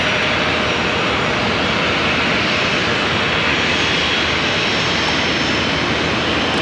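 Steady, loud jet engine roar from an airliner touching down on the runway at Charlotte Douglas International Airport, a continuous broadband rumble and whoosh sustained throughout with no pauses.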